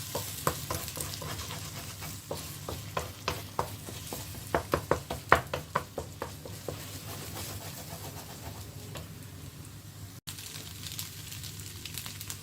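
Scrambled egg sizzles in hot oil in a pan for anchovy puttu, with a steady frying hiss under repeated sharp spatula clicks and scrapes as it is stirred, the stirring busiest early on and sparser toward the end.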